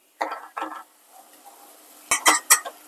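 A spoon stirring masala in a cooking pan, with a few close scraping, clattering strokes near the start and a louder burst of metallic scrapes toward the end, a quiet sizzle between them.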